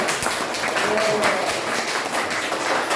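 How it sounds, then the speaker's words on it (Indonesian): Classroom applause from schoolchildren for their class leader, a busy, uneven rattle of small hands clapping nearby, mixed with chatter and a few voices. "Tepuk tangan buat ketua kelas."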